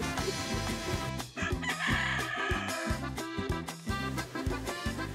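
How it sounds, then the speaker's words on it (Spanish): A rooster crows loudly and repeatedly nearby, with clucking fowl and other farm birds mixed in. "¡Callen a ese gallo!"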